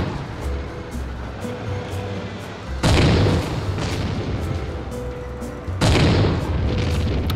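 Two heavy tank cannon blasts with explosions boom out in the Tank Simulator video game, spaced about three seconds apart, each a loud broadband burst rising over a steady rumbling engine and battlefield drone.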